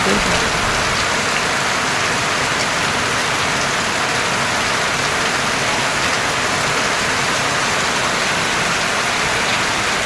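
A sudden rain shower pours down in a dense, constant hiss of drops striking surfaces, loud and unbroken throughout with no voices.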